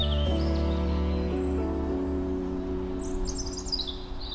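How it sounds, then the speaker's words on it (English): A blackbird's whistling phrases ring out at a moderate distance in woodland over a steady low hum of road traffic. "Got a blackbird singing around us."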